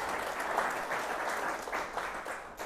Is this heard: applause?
yes